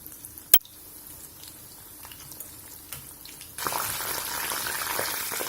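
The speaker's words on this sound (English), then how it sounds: "Fry the chicken pieces in moderately hot oil." Chicken pieces deep-frying in moderately hot oil give a soft, low crackle that swells into a loud, steady sizzling hiss partway through, after a sharp single click near the start.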